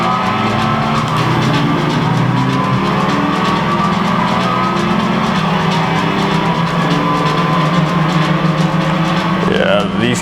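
Cars racing in the PlayStation game Gran Turismo 2, with steady droning engines and whining tyres heard continuously at a loud level, and talk mixed in beneath the game sound.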